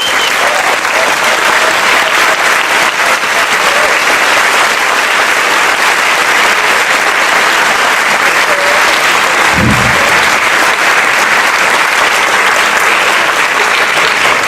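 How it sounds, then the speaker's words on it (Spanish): Sustained, loud audience applause for a lecturer at a Spanish-language talk on decolonizing epistemologies, a dense even wash of many hands clapping that fills the whole stretch without pause. "les pido un gran aplauso"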